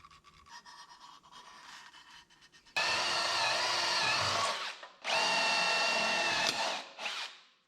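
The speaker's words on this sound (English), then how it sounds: "I didn't need that old drill bit anyhow." A power drill whirs loudly in two long bursts after a quieter stretch of rustling and breathing, stopping briefly between runs; the drill bit breaks while working on a 1967 Toyota Stout truck.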